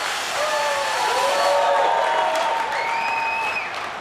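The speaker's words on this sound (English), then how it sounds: "if you pay attention to the crowd, it almost sounds like JonBeast has a home game" Arena crowd at the Madden 25 MCS Madden Bowl championship final applauding and cheering after a touchdown, a broad swell of clapping and voices that builds, holds, then eases, with a whistle-like tone rising through it.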